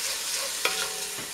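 A spoon stirs split pea soup in a pot, giving a brief scrape and clink midway over a soft continuous hiss, close and fairly quiet.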